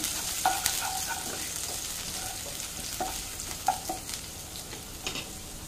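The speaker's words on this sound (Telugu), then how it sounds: "కొద్దిగా ఆనియన్స్ వేసుకుంటున్నాను. ఫ్రై చేద్దాం ఇది." Onions frying in oil in a pan, a steady close sizzle with occasional stirring clicks and scrapes, no voices.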